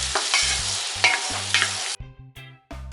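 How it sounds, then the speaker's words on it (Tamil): Green peas and soaked meal maker chunks sautéing in a hot pan for veg biryani, a steady loud sizzle with repeated scraping stirs for about two seconds, then fainter, broken frying with intermittent stirring clatter. "நல்லா வந்து இது வதங்கட்டும்."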